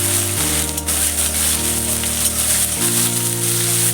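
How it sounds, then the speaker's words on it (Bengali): Finely chopped small onions frying in hot oil for a red chicken curry, a loud, continuous sizzle with a faint steady hum underneath and no voices. "পেঁয়াজটা ভেজে নেব।"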